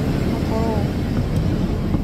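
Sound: airplane cabin noise before takeoff

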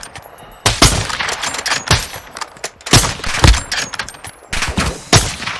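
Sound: gunfire aimed at the player in a video game

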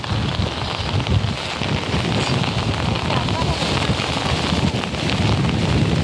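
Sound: wind on Jeju island

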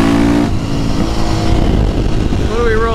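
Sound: KTM 450 supermoto motorcycle accelerating

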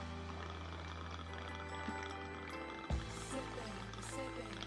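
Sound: pouring chocolate rum into a shot glass

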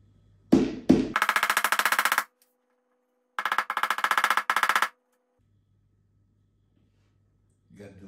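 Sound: hammer pushing plastic piece into closet

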